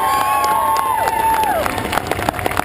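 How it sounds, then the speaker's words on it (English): Crowd cheering and clapping at the GP Run in Cranbourne, 2012, a dense steady wash of applause with scattered shouts and whistles, fairly loud and continuous for a few seconds. "can we please have a massive round of applause for the fantastic job by Olympic gold medalist Sally Pearson up there in the cherry picker"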